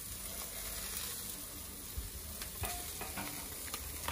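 Bacon sizzles on a grill at the outer edge over glowing embers, a continuous close crackling fry with occasional sharper pops and no talking.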